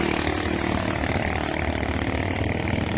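A motorcycle engine drones steadily while riding home from a farm during the rainy season, a dense continuous roar with no pauses and no voices.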